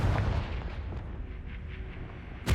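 Confringo fire spell blast from Hogwarts Legacy, a low rumbling boom with crackling debris that decays over two seconds, then a sharp second burst right at the end.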